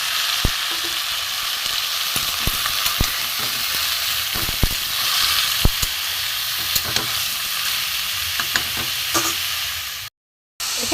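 Thin strips of ash gourd sizzle steadily in hot oil with black cumin over a lowered gas flame, a constant loud frying hiss broken by sharp spatula clicks against the pan, no talking.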